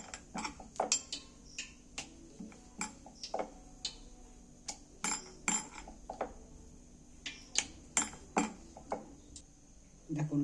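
A rolling pin rolls out luchi dough, making a quiet, steady run of light clicks and wooden taps against the board. The taps repeat irregularly and no one talks.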